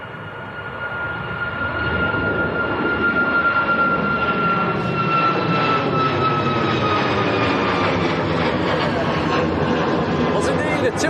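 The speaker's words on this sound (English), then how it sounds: "Was indeed a TUI Max to Sharm el Sheikh" A TUI Boeing 737 MAX airliner at Manchester Airport, a steady loud engine roar with a high whine that builds and holds, passing fairly close, with no one talking.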